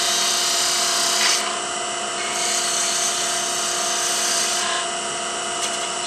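A lathe tool cuts a spinning wooden wine stopper with a steady, bright shearing hiss, close and continuous, with slight shifts in tone as the tool moves along the wood.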